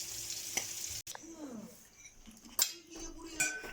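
Oil sizzles steadily in a pan as food fries, with occasional clinks of a utensil against cookware nearby.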